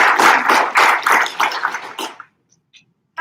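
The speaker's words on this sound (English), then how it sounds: "Can we give her a round of applause?" An audience at a student general body meeting applauds a newly introduced speaker, a burst of close clapping that thins out and stops after about two seconds, leaving near silence.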